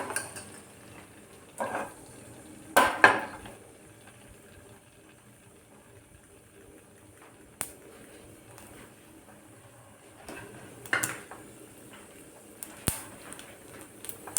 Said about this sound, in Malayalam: കടുക് ജസ്റ്റ് പൊട്ടി തുടങ്ങിയിട്ടുള്ളൂ